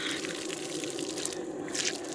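Water runs steadily from a public roadside tap in the cold hills near Barpak, Nepal, a continuous close splashing flow with no one talking.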